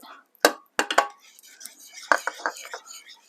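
A spoon stirring grated cheese and parmesan into a cheese sauce in a pot, with close metallic clinks and scrapes in quick uneven strokes and soft tapping.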